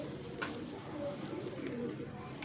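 Racing pigeons coo softly and continuously close by, a low rolling murmur with faint background noise and no clear speech.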